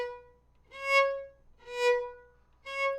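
Three light, detached viola notes sound one by one, each lifted off the string with a soft swell and fade, close and clear over faint background hum.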